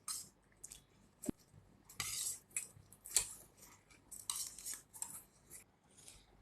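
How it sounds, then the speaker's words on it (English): A spoon stirs and scrapes through bhel puri mixed with sauce, giving scattered clinks and scrapes of uneven rhythm, some louder than others, heard fairly close and alone without talk. "Mix well with the spoon."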